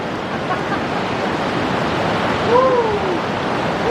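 Waterfall on Mount Rainier rushes as a steady, broad wash of falling water close by, continuous and fairly loud, with a brief faint whistle-like sound near the end.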